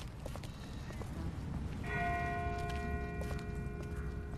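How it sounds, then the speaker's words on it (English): A distant bell rings out near a river, clear sustained tones entering partway through over outdoor background noise and footsteps-like clopping. "That's not the same bell as before. This one's further off."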